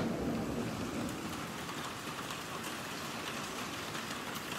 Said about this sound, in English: It has been raining for a while.